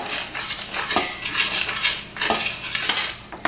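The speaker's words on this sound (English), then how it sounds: "then stir those around and they will easily combine" Spoon stirring flour into a bowl of ingredients for a pineapple fruit salad, a continuous close scraping with repeated clinks of metal against the bowl in an irregular rhythm, no talk.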